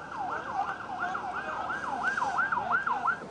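An ambulance siren wails in a fast, repeating rise-and-fall pattern over steady traffic noise, moderately distant.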